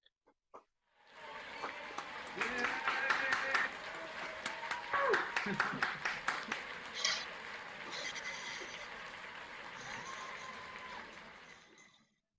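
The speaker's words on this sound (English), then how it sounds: "please could you unmute your microphones and a round of applause" Applause at an online 2020 Birkbeck, University of London computer science graduation, coming through several unmuted microphones as scattered, uneven claps that thin out toward the end, with faint voices and background noise mixed in.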